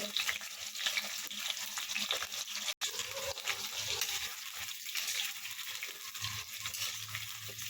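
Potatoes frying in a pan for an Odia-style chicken kasa, a steady broadband sizzle with faint bubbling and stirring, holding level throughout except for one brief dropout.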